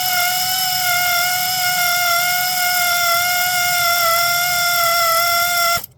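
An air tool runs during work on a 7.3 Powerstroke truck, giving a loud, steady high-pitched whine with a buzzing edge that holds evenly for several seconds, then cuts off abruptly.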